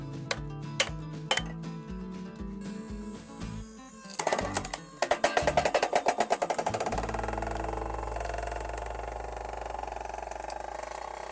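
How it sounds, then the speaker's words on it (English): Sharp metallic strikes from hammering with a 7-ton log splitter tool ring out, first spaced then in a fast burst, followed by a steady low mechanical hum. "you also can hammer stuff"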